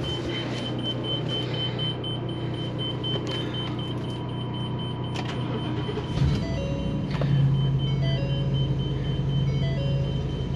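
A 2021 Sunseeker motorhome with a 7.3 engine with 12,178 miles idles steadily with a low rumble, while a repeating electronic beep from the leveling jack system sounds over it.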